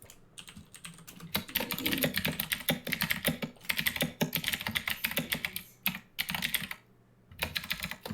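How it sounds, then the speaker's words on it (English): Rapid, steady typing on a computer keyboard, close and clear, with brief pauses between bursts of keystrokes. "Oh my gosh, I can hear you typing."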